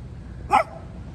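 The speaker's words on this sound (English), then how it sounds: "just so you know, she's barking." A single short dog bark rings out once, fairly close, against quiet background noise, a small dog barking at a Doberman at a motorcycle rally.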